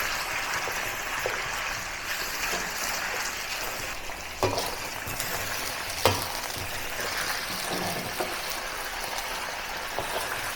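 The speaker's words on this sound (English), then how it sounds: "put the beef inside the hot oil for about 20 seconds" Beef pieces sizzle hard in hot oil in a close, steady, hissing crackle, with a few soft clinks from utensils partway through.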